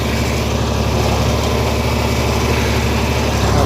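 A Massey/Minneapolis/Case backhoe tractor engine running steadily in first gear, a loud, close, continuous rumbling drone with a low throbbing pulse and no talking.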